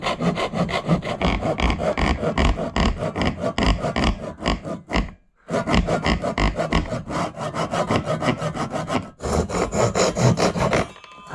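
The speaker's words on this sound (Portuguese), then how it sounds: "Vamos cortar com o lado mais grosso do serrote pra testar." A hand saw cuts through wood in steady, close, loud back-and-forth strokes, with two brief pauses before the rasping strokes resume.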